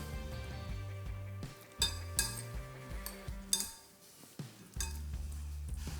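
A utensil stirring pasta salad in a bowl, a few close clinks and scrapes against the dish over a steady low background hum.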